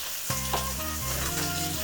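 Garlic paste hitting a hot frying pan and sizzling loudly, a sharp burst of frying that settles into a steady hiss with a brief scrape, close by and without talk.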